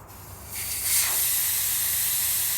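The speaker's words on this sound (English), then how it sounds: "So I'm actually taking the air out." Air hisses steadily out of a 4WD tyre as it is deflated after bead seating, a broad close hiss that swells after the first half-second and holds loud to the end.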